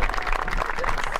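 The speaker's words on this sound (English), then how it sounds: "You may applaud him." Wedding guests at an ocean-view ceremony clap together in a brief, steady burst of applause, moderately loud and without speech over it.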